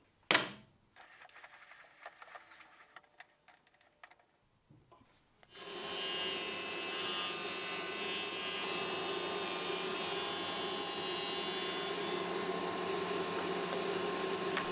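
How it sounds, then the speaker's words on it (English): A saw rips patterned plywood into strips, starting with a few seconds of handling knocks and then a loud, steady, continuous roar of the blade cutting through the wood. "Let's start ripping strips and gluing things up."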